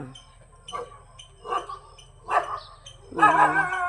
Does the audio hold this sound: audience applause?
no